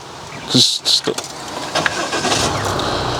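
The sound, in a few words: car engine starting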